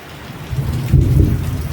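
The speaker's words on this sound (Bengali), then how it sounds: "বৃষ্টি হচ্ছে এখন" Heavy rain falls steadily while a low rumble of thunder swells and peaks toward the middle of the short stretch, loud and close.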